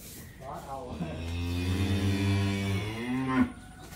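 A bull moos at a cattle market in Vietnam, one long, loud, close drawn-out call with a rising end, heard alone over faint background hum.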